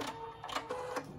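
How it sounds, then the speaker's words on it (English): A Husqvarna Viking embroidery machine cutting its threads, a brief, quiet mechanical whir with a few soft rhythmic clicks close by. "So now I'll cut my threads."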